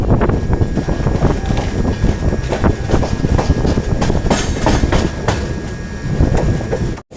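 The Andhra Pradesh Express rolls along the tracks after departing Nagpur, a continuous rumble and rhythmic clickety-clack, loud and close, with wind buffeting the microphone.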